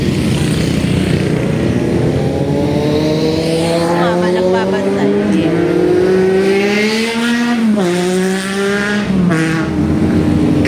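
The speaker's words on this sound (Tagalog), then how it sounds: "Grabe mga motor." Motorcycles ride by on a winding mountain road at Kilometer 90 near Infanta, Quezon, engines droning and rising in pitch as they rev past close and loud, with a person speaking briefly.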